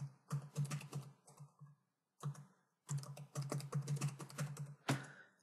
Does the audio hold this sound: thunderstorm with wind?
no